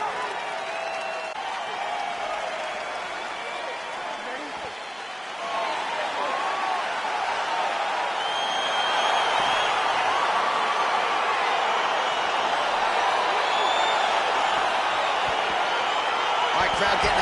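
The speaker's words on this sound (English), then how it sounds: "crowd getting excited as this fight gets underway" Arena crowd at an OFC 26 mixed martial arts bout, Ngannou versus Shoeivasa, roaring and clapping as the fight starts, a dense continuous swell of cheering that grows louder midway and stays high, with scattered whistles.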